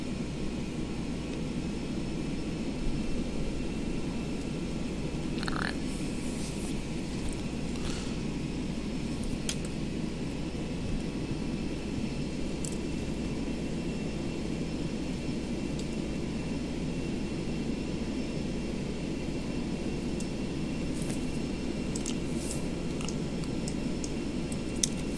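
Steady roar of Boeing 727 jet engines in a flight simulator, a constant broadband drone that stays even throughout, close and fairly loud, with a few faint clicks on top and no voices.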